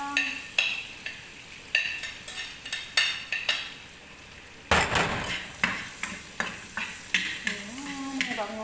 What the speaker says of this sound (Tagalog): So, ilalagay na natin yung ating bawang.